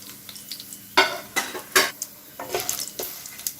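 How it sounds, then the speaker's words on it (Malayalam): A teaspoon of black pepper heats in a pan for mutton curry, heard as a soft sizzle broken by several sharp spoon scrapes and stirring strokes close by, with no talk. "ഇനി കുറച്ച് 1 ടീസ്പൂൺ കുരുമുളക്. ഇതൊന്ന് നന്നായിട്ടൊന്ന് ചൂടാക്കണം."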